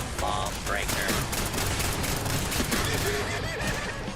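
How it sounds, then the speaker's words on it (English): Dense, continuous gunfire from a Fallout 4 firefight, loud rapid bursts layered into a steady roar with no break. "What was shooting me?"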